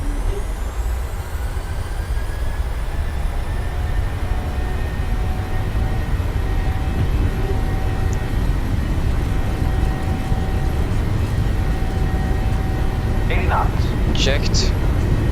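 Jet engines of a PMDG 737-800 at takeoff thrust in Microsoft Flight Simulator 2020, a steady, dense roar holding constant throughout with faint tonal whine layered on top, a few brief clicks near the end, no speech.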